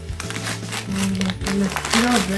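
Paper gift wrapping with a Christmas tree print crinkles and rustles while a package is unpacked, close and continuous under a speaking voice.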